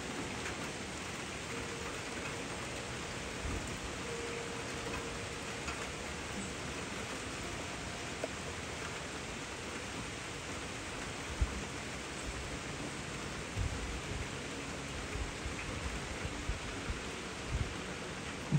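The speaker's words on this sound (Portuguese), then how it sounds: "esse barulhinho de chuva maravilhoso, né?" Soft, steady rain falls continuously, heard from the balcony of a luxury apartment in Gramado; the hiss is even and fairly faint, with no voices.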